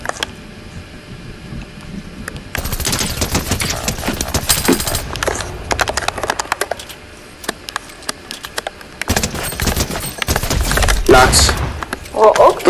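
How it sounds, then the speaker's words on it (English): Machine gun fire in the Fortnite video game comes in dense, rapid bursts amid busy game sound effects, loud and close, with quieter gaps between volleys. "Machine gun!"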